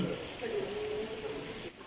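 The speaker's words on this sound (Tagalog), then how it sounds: "hindi po siya flowing, pero malakas yung agos ng tubig" Water flows strongly in a resort swimming pool, a steady rushing wash that holds throughout at moderate level, with a faint tonal whistle over it partway.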